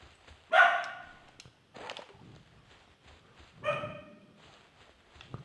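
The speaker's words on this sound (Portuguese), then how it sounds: "Minha cachorra braba" A dog barks a few sharp times at a moderate distance, with pauses between each bark and quiet background in a home setting.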